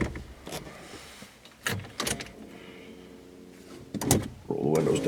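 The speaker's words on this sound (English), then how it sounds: "Roll the windows down first." Power windows on a GMC Jimmy truck whir down, heard as short motor hums among clicks and thumps inside the cab, with a voice speaking briefly at the end.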